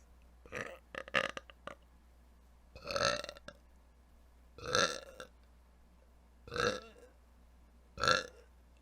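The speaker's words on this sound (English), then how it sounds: "let me burp real quick" A man burps five times in about eight seconds, loud, close and resonant, the first a rapid stuttering string and the rest longer single eructations spaced a second or two apart with quiet between.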